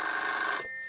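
A telephone rings with a bright, steady electronic bell tone that sounds for about half a second and then cuts off sharply into silence.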